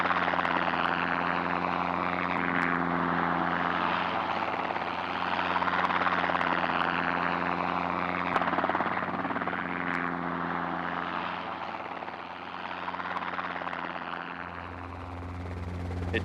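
Helicopters mustering cattle in the Australian bush: a loud, steady rotor thrum and engine drone runs throughout, shifting slightly in pitch as the aircraft moves, with no talk.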